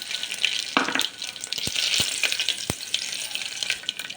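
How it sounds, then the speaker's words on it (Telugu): Tempering seeds hit hot oil in a pressure cooker and sizzle loudly, a crackling spatter with a few sharp pops over several seconds, no one speaking. "ఆయిల్ హీట్ ఎక్కింది ఫ్రెండ్స్. ఇప్పుడు తిరువాత గింజలు వేసుకోవాలండి."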